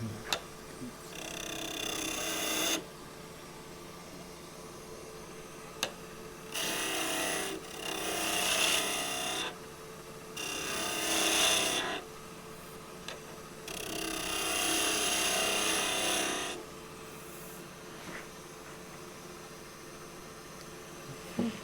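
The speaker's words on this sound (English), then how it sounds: "Just going to use a peeling cut this time." A wooden mallet turns on a lathe under a peeling cut, heard as several bursts of rough cutting and shaving noise lasting a few seconds each, separated by quieter stretches of the lathe's steady hum.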